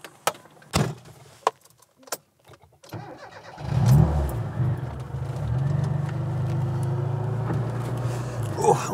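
A light Mini with a belt-driven supercharger, tuned to about 40% more than factory power, starts up after some clicks and door clunks, then settles into a loud, steady engine note close by.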